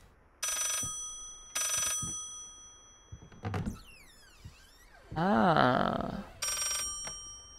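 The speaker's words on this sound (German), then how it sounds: "Da ist nur ein Telefon dahinter" Several ringing bursts from a telephone in the horror game Layers of Fear repeat at a steady pace, with thuds and a creaking door between rings and a brief voice.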